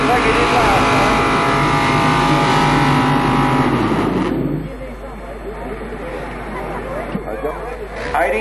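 Pulling tractor with its wheels spinning at a tractor pull, a loud roaring engine that holds strong then drops off partway through, leaving quieter crowd noise and an announcer's voice.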